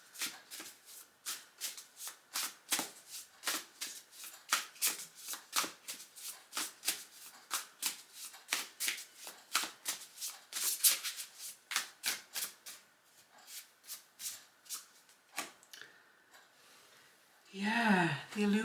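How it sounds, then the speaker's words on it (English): A new Unfolding Path tarot deck is shuffled by hand, giving a long run of rapid, crisp riffling bursts close to the microphone, then a brief rustle at the end. "Let's have a shuffle on it and see what wants to come in about tarot."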